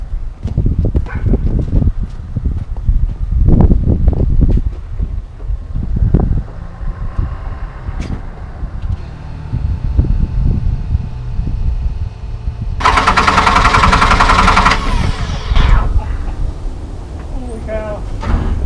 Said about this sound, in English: I'm gonna unplug my my solenoid on my injection pump so it won't start, so you can hear how fast it cranks over.